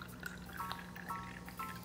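Champagne poured into a cocktail, a short, quiet fizzing pour with faint drips and a few soft bubbly ticks, heard alone without talk.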